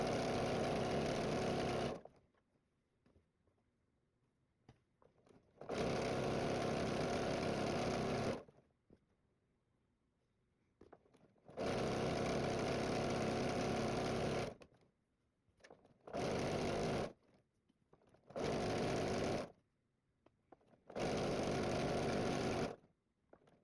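Sewing machine stitching a strip of striped fabric onto an improv quilt, running in several close, steady bursts of even whirring separated by quiet pauses, the later runs shorter and quicker, with no talking.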